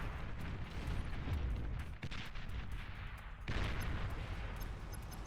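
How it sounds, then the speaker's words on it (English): Heavy artillery shots from the Tsar unit in the real-time strategy game Beyond All Reason, a dense run of booming impacts and blasts with sharp onsets near 2 and 3.5 seconds, loud and continuous with no voices. "the Tsar shots make their way in"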